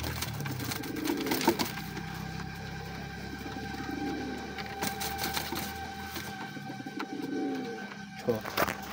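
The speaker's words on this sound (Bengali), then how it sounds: "আরো দেশি কবুতর আছে" Native pigeons coo nearby in soft, low, repeated rolling phrases spaced a few seconds apart over a quiet background with a faint mechanical hum.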